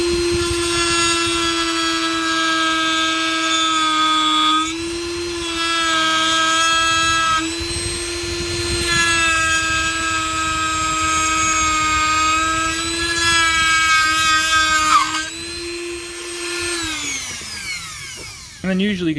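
Cutting wheel grinding off a stud during a Honda Accord to CRX climate control swap, a loud sustained high-pitched whine that dips briefly a few times and then spins down at the end.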